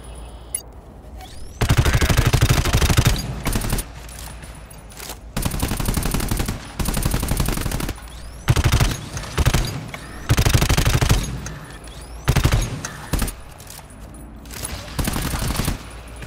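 Automatic weapon fire in the game GTFO rattles in loud, sustained bursts of rapid shots, several seconds each and separated by brief quiet gaps, with a few shorter volleys toward the end.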